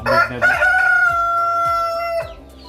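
A breeder rooster crows loudly and close by in one long drawn-out call on a chicken farm, with other chickens clucking in the background.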